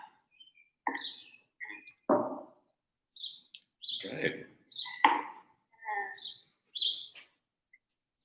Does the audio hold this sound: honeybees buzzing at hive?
no